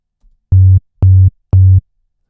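Three identical synthesized kick drum tones made from a sine wave, each about a quarter second long, repeat at an even pace with silence between them, a steady low electronic pulse.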